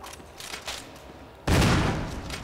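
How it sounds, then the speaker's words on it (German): Gunfire in the video game Resident Evil HD Remaster, in a dark cellar: a muffled, rumbling game ambience, then a loud burst of shots and booming blasts in the second half, close and without talk. "Ich verballer hier sinnlos meine Munition."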